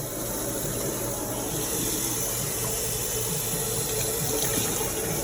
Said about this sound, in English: And 2nd cup of water.